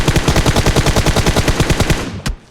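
A UMP9 submachine gun firing in PUBG Mobile: a rapid, steady automatic burst of about twenty evenly spaced shots, loud and close, ending in one final crack.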